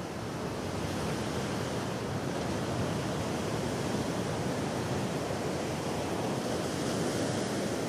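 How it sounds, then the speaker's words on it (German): Ocean waves breaking against lava rock cliffs on the south coast of Mauritius, a dense continuous roar of surf without pause, loud and close. "Ungestüme Wellen, die über tausende Kilometer ungebremst auf die Küste treffen, brechen sich an Felsen und Klippen aus Lavagestein."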